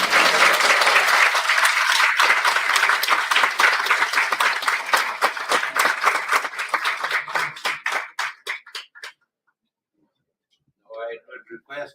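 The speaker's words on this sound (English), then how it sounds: "A big round of applause, everyone." An audience at a tourism conference claps in sustained applause that thins into scattered claps and stops, followed by a brief voice after a pause.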